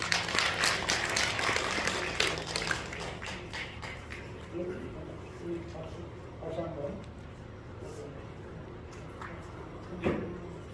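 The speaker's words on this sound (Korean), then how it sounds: "박수로 감사드리겠습니다" A church congregation claps in a burst of applause at a Christmas service, loud at first and then trailing off into scattered claps and quiet murmuring.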